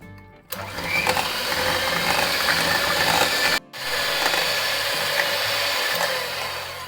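An electric mixer beats red velvet cake batter with vanilla essence just added. The motor whirs loudly and steadily, cuts out for a moment, then starts again at the same pitch, with no talking over it.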